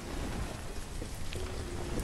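Steady rain in the city-building game Banished, a dense even hiss of falling drops with faint patters, continuous and moderately loud for the whole stretch.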